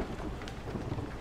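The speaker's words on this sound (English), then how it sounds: "The thunder sounds so real." Thunder in the Blair Witch video game, a low continuous rumble rolling through the whole short moment with broad, steady loudness and no clear single crack.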